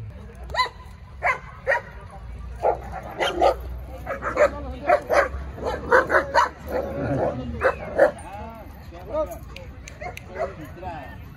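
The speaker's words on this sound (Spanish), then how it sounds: "son perros muy territoriales, no permiten que se acerque mucho a sus dueños" Several German Shepherd dogs bark and yip in sharp, uneven bursts, some near and some farther off, with people talking in the background.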